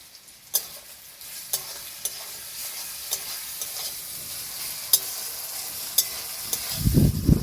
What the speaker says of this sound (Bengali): আদা রসুন আমি ভালো করে ভেজে নেব।